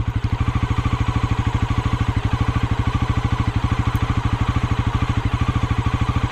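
A 2025 Bajaj Pulsar NS400Z motorcycle engine runs at a steady idle close by, a loud, even low thumping pulse with a faint mechanical rattle over it, continuing without change and no talking.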